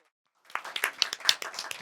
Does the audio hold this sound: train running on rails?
no